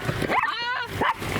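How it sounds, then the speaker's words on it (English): A dog gives a short, near bark-whine, a brief yelp rising out of background talk and ambient noise at a lake offroading outing. "quit barking"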